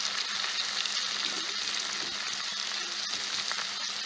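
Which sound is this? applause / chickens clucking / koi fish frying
koi fish frying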